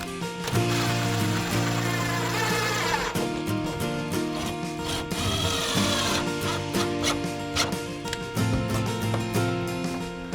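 A power driver sends screws into the hidden corner profile of grout-free laminate shower wall panels, with several whirring, rising motor bursts separated by short gaps and some clicks.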